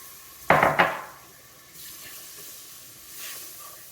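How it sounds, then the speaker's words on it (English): Milk poured into a hot pot of Japanese white stew gives two quick, close hissing splashes, then soft quiet hiss and low kitchen background. "Now we're going to gradually add some milk."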